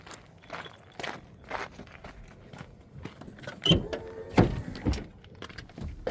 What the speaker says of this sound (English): and then we'll open the door.